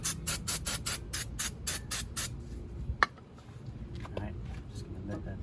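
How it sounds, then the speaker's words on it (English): Brake cleaner sprayed from an aerosol can onto the front brake caliper of a 2016 Honda Civic, heard as a run of short hissing bursts in quick succession, followed by a sharp click and quieter handling noises. "we're gonna spray through the brake cleaner"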